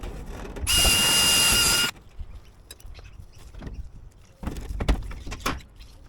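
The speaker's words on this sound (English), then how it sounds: "once you've got it nice, you're just going to put a rivet up here into those two" A rivet being fitted on an external gutter corner, a short loud rivet-gun burst of about a second, followed by softer clicks and a second rougher mechanical stretch, close by and with no talking.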